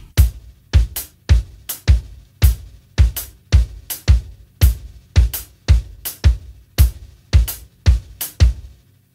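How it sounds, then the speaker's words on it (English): Drum kit playing a 3-against-4 polyrhythm over a steady four-on-the-floor bass drum, with sharp, evenly recurring hits in a repeating interlocking pattern, loud and close with no voices. "I'm playing 4-4 on my bass drum, and I'm playing what I describe in the book as the long 3 against the 4-4 pattern"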